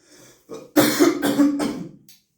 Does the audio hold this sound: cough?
yes